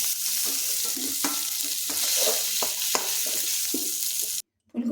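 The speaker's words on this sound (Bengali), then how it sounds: "এখন লবণ আর হলুদ দিয়ে ফুলকপিটা ভালো করে ভেজে নেব।" Cauliflower fries with salt and turmeric in a pan, a continuous sizzle broken by repeated scrapes and clacks of a spatula stirring, then a sudden brief silence near the end.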